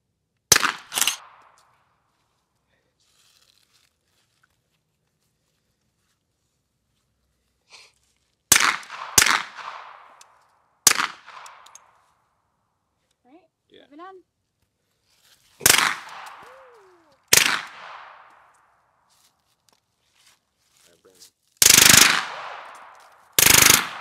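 A KRISS submachine gun fires outdoors, first a single round, then two rounds, then short bursts, each sharp loud crack separated by long silences, with faint voices in between.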